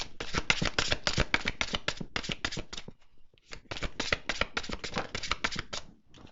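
Tarot cards are shuffled by hand for a Cancer horoscope reading: rapid, crisp riffling bursts close to the mic, with a brief pause midway before the shuffling resumes, no talking.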